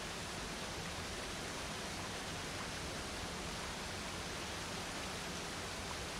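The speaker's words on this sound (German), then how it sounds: "Hier haben wir auch wieder einen Wasserfall." A waterfall in the VR game The VR Canyon rushes as a steady, faint, broadband wash of falling water, unbroken throughout with no voices.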